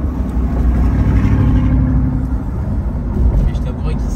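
Car with its exhaust valves open giving a loud, deep engine rumble and revving from inside the cabin, with people talking over it throughout.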